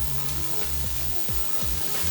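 Tomato, carrots and corn fry in a pan for Brazilian galinhada, a steady close sizzle with a few soft scraping stirs running through it.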